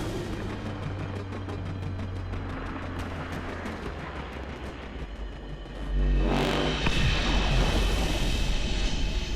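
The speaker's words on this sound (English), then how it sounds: "Dramatic explosion." A deep, booming explosion in the shooter game Killzone Shadow Fall erupts partway through, breaking over a constant rumble of battle noise and scattered sharp cracks, with no talking.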